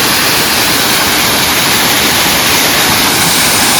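A forest waterfall running low after little rain, heard close as a loud, steady, dense roar of falling water throughout, with no voices.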